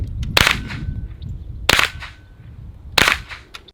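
Three suppressed gunshots fired through a silencer with water inside ring out as sharp, evenly spaced cracks about a second apart, each trailing off quickly with no talking.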